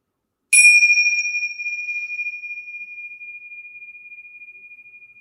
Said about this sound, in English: I'll get my bells.